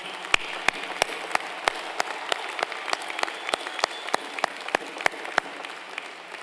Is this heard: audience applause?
yes